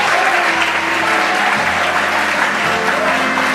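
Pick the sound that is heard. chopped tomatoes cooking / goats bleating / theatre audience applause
theatre audience applause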